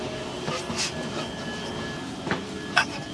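A passenger train in Wellington, New Zealand rumbles along the rails at close range, a steady low clatter with a few brief clicks and squeaks over it.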